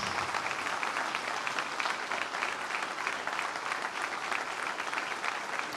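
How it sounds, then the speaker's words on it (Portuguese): A church congregation claps in praise during a worship service, a sustained, even wash of many hands heard from within the room, steady throughout with no voices over it. "Vamos aplaudir ao Senhor novamente."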